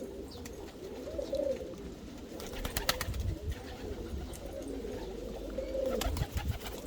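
Hungarian ornamental pigeons (black- and colour-patterned Macar breeds) coo in a loft, the low throaty rolling calls repeating at a relaxed pace, fairly close, over a steady background hiss with some light scuffs and taps.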